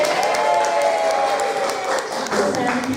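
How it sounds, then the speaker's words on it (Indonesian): Audience applause at a school teachers' in-house training session, a steady crowd of clapping hands filling the whole stretch at moderate loudness with a voice faintly present underneath. "Oke, tepuk tangan dulu dong."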